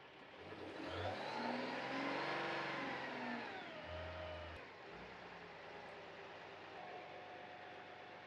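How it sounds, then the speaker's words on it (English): A truck engine powering a VMAC underhood air compressor climbs in revs, the tone rising and swelling to a steady higher drone before easing back to a constant hum, moderately close. "the RPMs on the truck will increase to charge your air receiver tanks."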